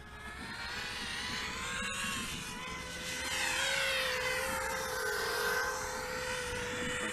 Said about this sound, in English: I think this will be my favorite quadcopter now